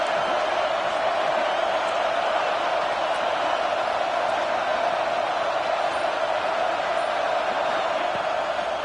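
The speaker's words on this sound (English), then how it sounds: "And here comes the noise. This crowd is trying to inspire this defense to make a big red zone stop." A packed football stadium crowd roars steadily as the home side defends in the red zone, a dense, sustained wall of noise with no break and no clear voices.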